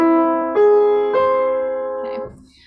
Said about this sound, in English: so it's an augmented triad